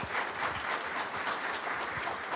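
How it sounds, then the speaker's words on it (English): Applause from an audience at a county board meeting, a dense steady patter of many hands clapping together at moderate volume, continuing evenly throughout with no voices over it. "let's give them a great big round of applause as well"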